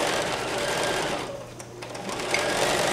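A sewing machine stitches a quilted placemat, a steady close, loud mechanical whir running almost throughout, easing off briefly partway before picking back up.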